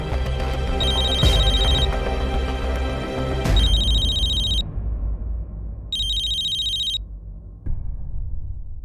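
A telephone rings in repeated bursts of electronic trilling, loud and close, with pauses between rings and other sound underneath before the ringing stops.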